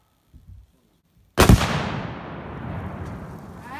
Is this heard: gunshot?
yes